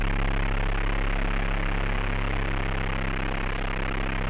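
A steady, droning aircraft engine from the Atari ST game Flight Simulator II hums continuously and loudly, a synthetic low buzz with stacked tones that never changes pitch, and no one speaks.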